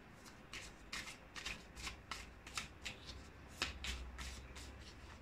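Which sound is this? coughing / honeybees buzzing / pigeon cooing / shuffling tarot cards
shuffling tarot cards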